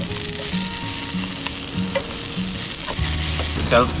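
Ginger, garlic and onion frying in hot oil give a steady sizzle, with occasional utensil scrapes and stirring clinks over a low hum and faint background tones.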